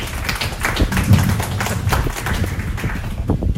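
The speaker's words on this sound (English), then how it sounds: "You give him a round of applause." A small audience at a volunteer appreciation day gives a round of applause, with close, uneven hand claps and taps rising and thinning over a few seconds.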